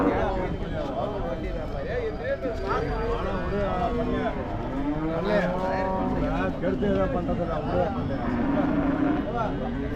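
HF calves and cattle at the Orappam cattle market in Krishnagiri district low and moo amid a steady crowd murmur, with drawn-out calls rising over constant background chatter.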